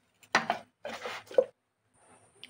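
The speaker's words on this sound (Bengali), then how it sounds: "একটা বড় টমেটো কুচি করে দেবো" A large tomato is chopped finely with a knife on a board, three or four distinct close chopping bursts separated by short pauses, then a faint quieter stretch.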